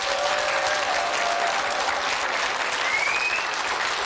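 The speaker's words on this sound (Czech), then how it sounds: "to chce potlesk." A large studio audience on a Czech TV quiz show applauds loudly and steadily, a dense wash of clapping that continues without a break.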